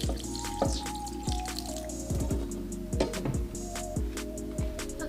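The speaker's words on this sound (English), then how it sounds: "Now we're gonna rinse them one more time, then we're gonna drain them again." Tapioca pearls for mango sago being rinsed and drained: steady running water with repeated dripping and soft squishing splashes at an even rhythm, close and moderately loud throughout.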